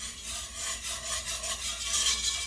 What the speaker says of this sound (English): I'm just going to gently whisk that